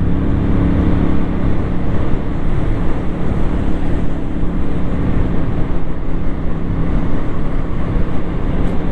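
CF Moto 450 CL-C motorcycle engine while riding in fourth gear around 4000 rpm, a steady loud drone heavily mixed with wind rush, continuous without pauses.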